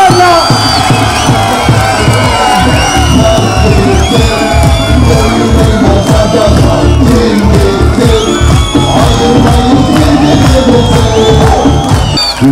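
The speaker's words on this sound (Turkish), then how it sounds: "Sayın Zeydan Karaca'yı takdim ediyorum alkışlarla" A large crowd at a political rally cheers, shouts and whoops continuously at high volume. Voices and whistles blend into a loud, dense roar.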